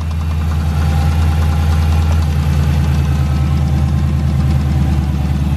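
A Dodge Charger SRT8 with the 6.1 engine idles loudly and close, a deep rumbling throb with a slightly uneven, knocking pulse held steady throughout.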